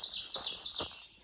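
A bird calls on the Appalachian Trail with a quick run of bright, high chirps, several short notes close together over about a second, clear and fairly near with no talk.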